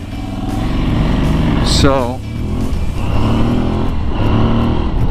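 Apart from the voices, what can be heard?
Aprilia Tuareg 660 parallel twin motorcycle engine intake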